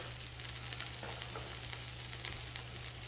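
Beef tenderloin steaks fry in a hot pan with a steady, close crackling sizzle and pops that run through the whole stretch, alone and with no talk.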